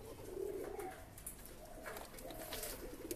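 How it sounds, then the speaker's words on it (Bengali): A pair of kaldam pigeons coo softly in a quiet loft, with low, faint, repeated throaty calls. "এখানে এক জোড়া কালদম পায়রা, খুব ভালো কোয়ালিটির পায়রা"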